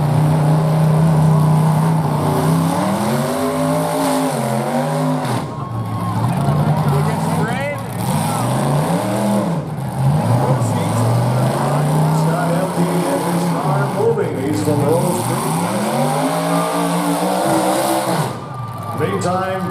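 Builders class race car engines at a county fair rise and fall in pitch as they rev and pass, roaring loudly throughout while a voice commentates over them.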